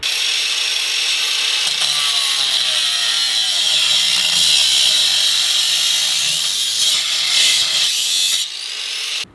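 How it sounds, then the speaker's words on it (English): Cutting wheel grinding through a welded exhaust muffler on a Honda Civic, a loud close high-pitched screech running continuously for several seconds before cutting off abruptly at the end. "got the cutting wheel, we're going in hot, and I'm taking it out because that's what I need to do"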